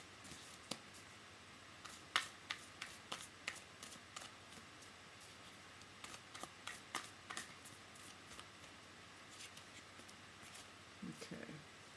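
Tarot cards are shuffled in soft, irregular riffles and taps, quiet and close, a dozen or so brief papery bursts spread over the stretch against faint room hiss.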